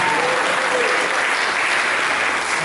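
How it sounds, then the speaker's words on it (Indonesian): Dense, continuous applause from a large audience, loud and unbroken throughout. "Mari kita berikan tepuk tangan bagi dia."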